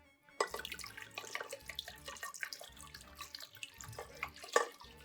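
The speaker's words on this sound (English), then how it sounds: "I love the noise that it makes when you're pouring wine and it just does a glug glug glug." Wine glugs out of a bottle while being poured for a medieval-style hippocras spiced drink, a rhythmic series of gurgling pulses close by with a steady liquid splash underneath and no talking.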